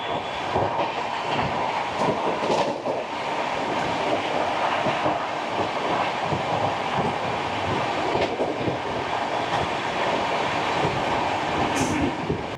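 Gatimaan Express train overtaking Kongu Express 12648, a steady loud rumbling roar of rolling wheels and wind lasting throughout, with no voices.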